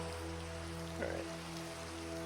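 Soft, even rain hiss in Minecraft with the Primal Magick mod, faint and constant beneath steady tonal game hum, with one small brief swell around the middle and nobody talking.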